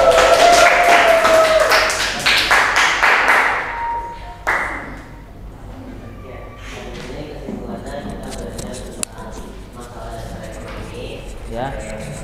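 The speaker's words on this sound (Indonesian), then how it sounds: "Kita beri aplaus dulu dong." A classroom of students applauds a group stepping up to present in an Indonesian school lesson, a burst of close clapping that fades after a few seconds, with voices talking around it.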